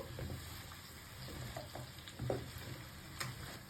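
Drumsticks (moringa pods) sizzling in hot oil in a pan while being stirred, a steady close frying hiss broken by soft scraping stir strokes, no talking.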